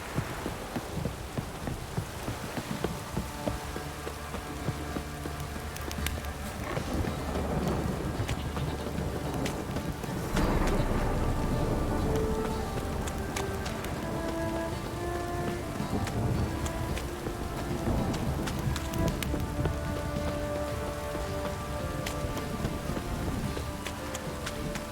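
Steady rain patters throughout a stormy scene in The Witcher 3: Wild Hunt, with low thunder rumbling beneath and game music tones layered over the downpour.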